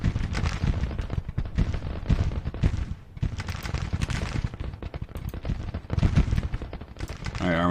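Massed Civil War musket and cannon fire in the strategy game Grand Tactician crackles and booms continuously, dense overlapping volleys rolling loud and steady with no talk.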